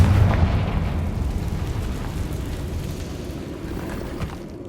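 Fire-blast spell explosion in the Hogwarts Legacy video game on PS5: a loud, deep rumbling blast that swells at the start and slowly decays into a long, continuous roar, with no talk.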